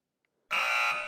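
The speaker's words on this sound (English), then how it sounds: "And that is the buzzer." A single loud, harsh buzzer blares suddenly after a brief silence and holds steadily to the end.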